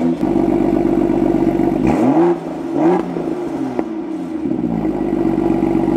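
A stock BMW F87 M2 engine revs loudly up close, the idle droning steadily before sharp throttle blips rise and fall, followed by a settled idle.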